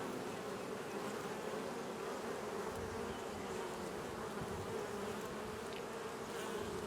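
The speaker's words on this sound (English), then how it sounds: "it looks like every frame has got some bees on it" Honeybees swarm around an open 8-frame hive, their dense buzzing close and continuous throughout, steady in loudness, with no voices.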